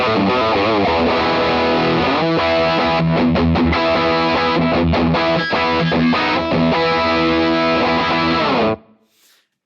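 High-gain distorted electric guitar played through an FM9 drive setting, loud and saturated with thick sustained chords and chugging riffs for about nine seconds before cutting off into a brief ringing decay.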